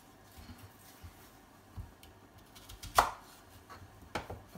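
A kitchen knife cutting peeled onions into fine cubes on a board gives a few sharp, close strikes, the loudest near the middle and another toward the end, over a quiet room.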